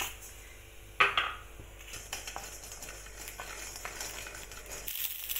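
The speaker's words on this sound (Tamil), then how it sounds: "கடுகு நல்லா பொரிய ஆரம்பிச்சு" Mustard seeds splutter in hot oil in a pan with faint pops, a sharp metallic clink near the start and a low steady sizzle underneath.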